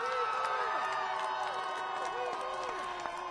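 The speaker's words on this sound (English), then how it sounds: "That's the crowd outside the courthouse today as they got the news of the verdict" Crowd outside a Minneapolis courthouse cheering as a verdict is announced, a dense, sustained roar of voices with whoops and shouts throughout, close and loud, with no pause.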